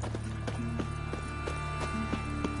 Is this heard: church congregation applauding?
no